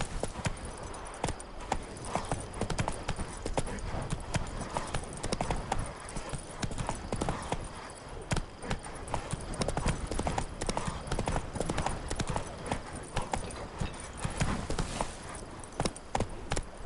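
Horse hooves clip-clop steadily in The Witcher 3 as the mount keeps up a brisk pace, a loud dense stream of hoofbeats with faint game ambience underneath.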